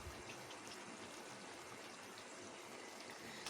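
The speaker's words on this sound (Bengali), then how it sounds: "পরিমাণ মতো এখানে আমি জল অ্যাড করে দেব" Water is poured into a pot of chicken roast as a steady, soft rushing hiss that runs unbroken for a few seconds.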